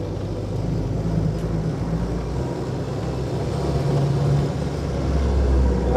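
A 1937 Austin Seven Ruby's small vintage engine drones steadily while driving in third gear, a continuous low rumble and road noise with no clear talking.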